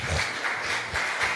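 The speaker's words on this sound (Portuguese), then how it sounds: "Você pode aplaudir ao Senhor?" Congregation applauding during a Christmas church service, a dense wash of many hands clapping at steady loudness through the short moment, with a little background noise and no clear voices.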